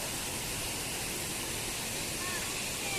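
A small waterfall near Devarapalli mandal rushes in a constant, even splashing hiss, close and moderately loud, flowing without breaks for the whole stretch.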